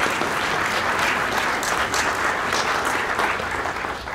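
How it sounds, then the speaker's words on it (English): A school audience at an elementary spring concert breaks into applause, with thick, continuous clapping from a large crowd at an even level throughout. "Let's give them another round of applause."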